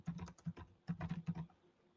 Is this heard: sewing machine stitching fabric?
no